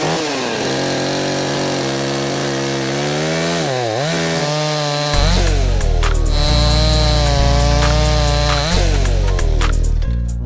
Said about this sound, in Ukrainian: Тестуємо нову бензинову ланцюгову пилу NSG 45H.